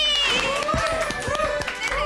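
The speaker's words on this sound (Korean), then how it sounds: "박수 한번 치면서 화이팅 해줄까요?" A group claps together to cheer on a dejected army private, the brisk claps scattered over lively chatter and voices.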